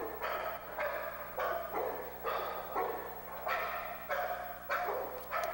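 An adult male dog in an animal shelter barks steadily, about eight loud, evenly spaced barks in a row, close by and with no talk over them.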